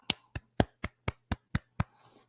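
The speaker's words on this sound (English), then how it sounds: "Put your hands together and clap it up." Eight sharp hand claps ring out close by in a brisk, even rhythm, followed by a brief quiet tail with a faint low hum underneath and no voices.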